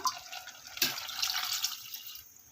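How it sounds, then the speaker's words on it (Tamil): Water poured into a pressure cooker while cooking a tomato kadaiyal: a steady splashing, trickling stream runs for a couple of seconds with one brighter splash early on, moderately close and without talk. "இப்போ தண்ணி நமக்கு எந்த அளவுக்கு தண்ணி வேணுமோ இப்போ தண்ணி சேர்த்துடலாம்"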